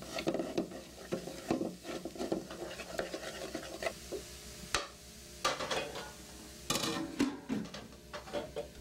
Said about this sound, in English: She cooks everything over a simple stove fired by tree branches.